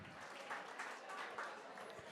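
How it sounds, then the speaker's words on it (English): Audience applause at a charity art auction, faint and fairly distant, a soft wash of clapping that holds steady for a couple of seconds. "Can we also give Bob Fink a huge round of applause for purchasing Silver"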